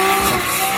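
Single-turbo BMW S55 engine in a car, a steady loud roar with sustained tonal whine held across the short moment, no voices.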